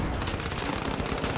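Gunfire in a multiplayer shooter game: dense, loud, continuous rapid shots packed tightly together throughout, with no talk over them.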